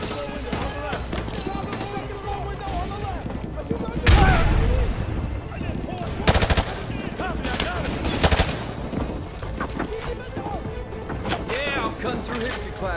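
Gunfire in Call of Duty: Modern Warfare 2 gameplay: rapid automatic bursts and sharp louder shots punctuate a noisy battle, with shouted voices over the din throughout.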